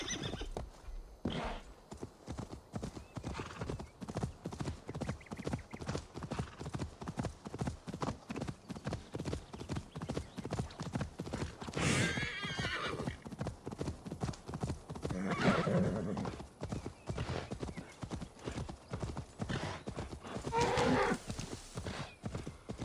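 A horse in Assassin's Creed Valhalla clip-clops in a fast, close, steady rhythm of hooves, with a loud neigh breaking out midway and further whinnies later, mostly free of talk.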